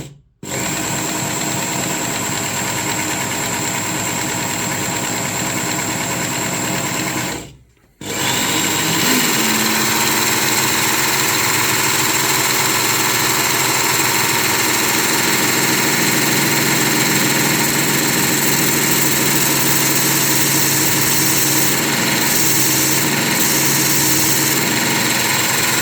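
The tip of a Tops tanto knife is ground down on a powered grinder, a loud steady whining motor drone with a brief cutoff early on, then a continuous grinding tone with slight fluctuations as steel meets the abrasive.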